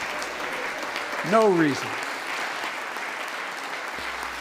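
Members of Congress applaud during a speaker's address in the chamber, a steady spread of clapping that carries beneath talk, with a short voiced exclamation rising over it.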